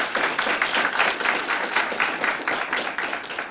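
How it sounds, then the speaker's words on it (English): Applause at a county jail officers' graduation ceremony, with many hands clapping in a lively, slightly pulsing patter that stays fairly even throughout and no talking over it. "Can we give them a round of applause for their leadership?"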